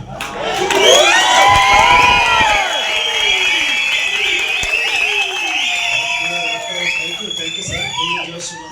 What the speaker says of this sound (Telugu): క్లాప్స్ కొట్టడానికి వచ్చిన వాళ్ళు క్లాప్స్ కొట్టండి, విజిల్ వేయడానికి వచ్చిన వాళ్ళు విజిల్ వేయండి.